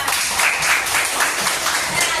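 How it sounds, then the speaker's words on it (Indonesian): Classroom applause from a fourth-grade religious studies class, a continuous steady patter of many hands clapping together at close range, with faint voices mixed in. "Kita beri tepuk tangan untuk kita semua."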